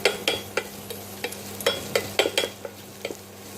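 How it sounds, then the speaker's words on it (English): Onions sautéing in a pan with a pinch of salt and a dry red chilli for coconut chutney, a soft steady sizzle broken by repeated stirring scrapes at an uneven rhythm, close and fairly quiet. "Saute it well till they are slightly golden in color"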